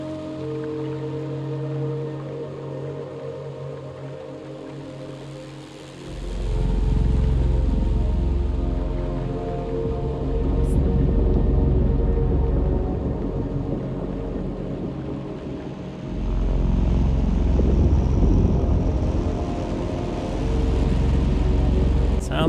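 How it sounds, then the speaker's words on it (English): A storm brewing in Little Nightmares II: rain hisses under a deep rumble that swells in twice, loud and rolling, like thunder or heavy wind building over the scene, with no speech. "Sounds like a storm's brewing."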